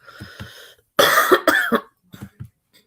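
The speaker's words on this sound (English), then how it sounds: "I'm probably going to be coughing a lot" A person coughs several times in short bursts, a couple of harsh heavy coughs followed by a few softer ones, close and alone.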